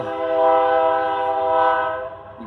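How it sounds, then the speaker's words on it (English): A passing train sounds its horn in one loud, sustained, close blast that holds steady, then cuts off near the end. "Got a train going by, sorry guys."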